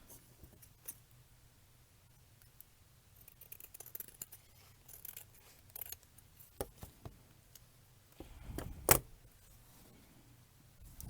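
Scissors snip paper in a quiet craft setting, a series of faint, scattered crisp cuts with soft handling sounds and one louder snip near the end.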